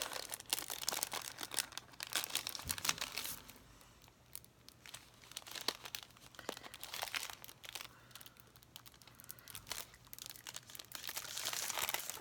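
Packaging from a Sweet Kawaii monthly kit crinkles and crunches up close as it is handled and pulled open, in irregular rustling bursts throughout with no talking.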